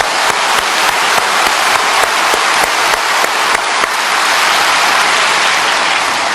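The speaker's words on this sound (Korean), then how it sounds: "아예 한번 힘차게 박수 칩시다." Sustained audience applause from a church congregation during a Bible study sermon on Genesis, dense and steady clapping that holds loud throughout.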